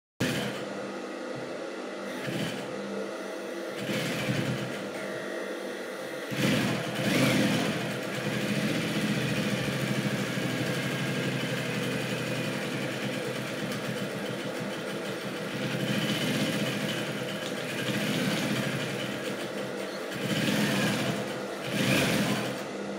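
Sewing machine top-stitching around a shirt collar, a steady motor hum running at length with brief pauses and restarts, fairly loud and close throughout.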